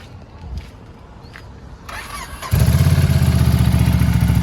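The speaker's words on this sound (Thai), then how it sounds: "เดี๋ยว ฟังเสียง เครื่องยนต์นิดนึง ครับ" Ducati Scrambler 795 motorcycle engine starting up after a few faint clicks and shuffling, then settling into a loud, steady, close-up idle with an even throbbing pulse.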